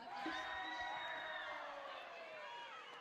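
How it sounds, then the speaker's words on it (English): Cheering and whooping from a team bench at a junior women's team foil fencing world championship final, a sustained crowd roar with shouts, fairly loud and continuous, with voices mixed in. "You could hear the cheer that went up from the American bench"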